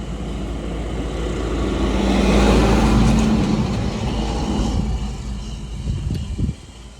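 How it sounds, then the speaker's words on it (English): A truck passes close by, its engine rumble swelling to a loud peak mid-way and then fading as it moves off. "Here comes another truck."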